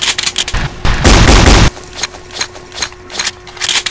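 Guns from a Fallout 3 weapons mod in Garry's Mod fire loud, close bursts: rapid shots, one sustained heavy blast, then scattered cracks over a steady hum.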